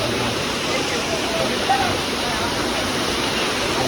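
Water pours down Lihonjar waterfall in Karbi Anglong in a steady, close rushing roar that stays constant throughout, with no breaks or changes in intensity.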